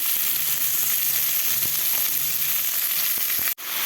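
Chopped tomatoes frying with a spoonful of salt in a pan, a loud steady sizzle close up with a few faint stirring knocks, no talking.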